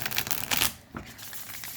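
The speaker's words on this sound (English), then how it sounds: "I am going to continue shuffling on camera" Tarot cards are shuffled by hand up close, a burst of quick riffling and slapping that trails off into softer sliding and rustling, fairly quiet with no voices.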